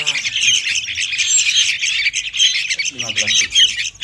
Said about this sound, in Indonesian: Terus kesini lagi ada burung kutilang sama kerucuk, juga sama cendet.